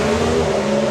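Drag racing cars, a Pontiac and a Dodge, launch at the FIA/FIM Euro Finals, their engines a loud, dense, close roar with tyre shake, filling the brief moment with no voices.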